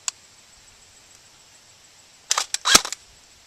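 An upgraded G&G Combat Machine M4 airsoft gun fires 0.25 g BBs through a chronograph. One faint click opens a quiet stretch, and near the end comes a short, sharp cluster of snapping shots, with no talk.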